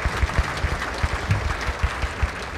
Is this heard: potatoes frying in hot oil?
no